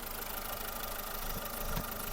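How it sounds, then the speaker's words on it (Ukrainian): A 2009 Skoda Fabia engine idles in an even, continuous mechanical hum with a light rattle, heard close and steady with no voices. "робота двигуна."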